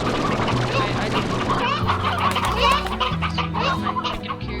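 Chickens clucking in the video game Slime Rancher, a steady stream of clucks and squawks over game music, fairly loud and continuous throughout.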